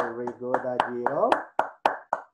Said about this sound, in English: Everybody clap for Dajiro.